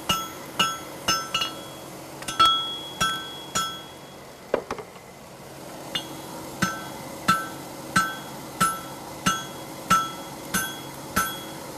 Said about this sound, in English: I'm being patient, just dropping my hammer, wait until I feel the steel bend.